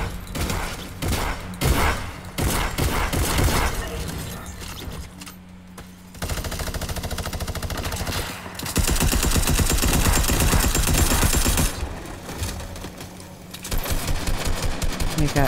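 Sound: gunfire in the video game Fortnite

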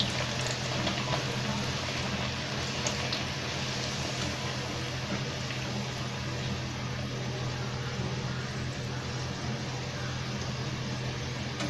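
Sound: bhature frying in hot refined oil

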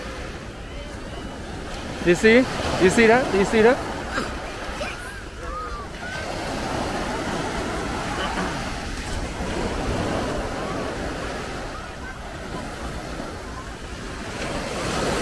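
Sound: waves washing ashore

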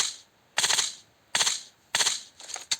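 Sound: gunfire in the video game PUBG Mobile

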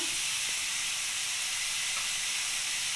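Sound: cauliflower frying and being stirred in a wok

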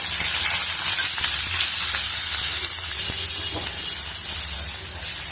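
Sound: onion pieces frying in a pan

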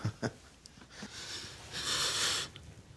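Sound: newborn baby breathing

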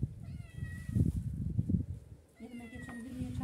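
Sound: cat meowing

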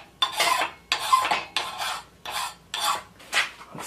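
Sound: sharpening an axe blade with a file

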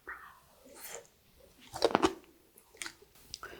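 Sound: chewing crunchy altari radish kimchi

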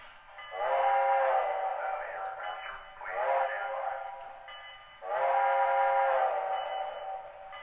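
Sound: toy train chugging and whistle

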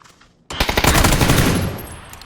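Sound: gunfire in the video game PUBG

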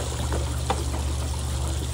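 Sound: water flowing down a children's museum water play table

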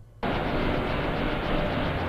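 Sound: traffic noise sample from a wavetable synth engine

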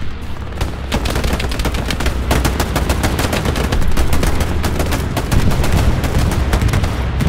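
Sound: artillery fire on the beach in the video game Hell Let Loose

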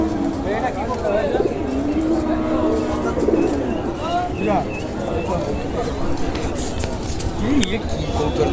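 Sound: Lotan pigeons cooing at a pigeon market

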